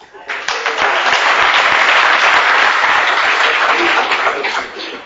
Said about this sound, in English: Now let's clap for them properly.